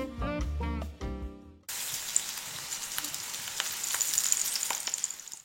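Thick tofu slices fry in a pan with a close, steady crackling sizzle and scattered pops, which start abruptly after a short tonal musical passage.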